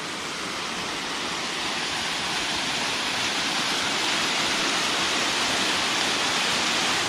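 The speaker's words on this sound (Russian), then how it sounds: "Так, еще один водопадик." Constant rushing of a small jungle waterfall, a broad, even hiss of falling water that stays steady throughout with no voices.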